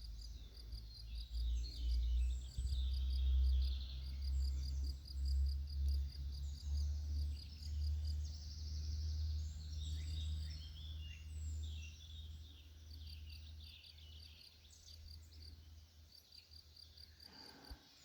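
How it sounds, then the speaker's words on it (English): Outdoor ambience of birds singing and chirping at a distance, with a steady insect trill and low wind rumble underneath. "I'm going to pause my narration right now in order to let you hear the birds."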